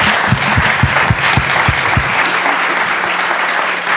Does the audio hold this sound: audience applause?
yes